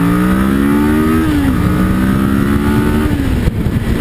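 A 2012 Kawasaki Ninja 650 motorcycle accelerating hard from a standstill toward 60 mph, the engine note climbing loudly through several gear changes with brief pitch drops between shifts, close and alone.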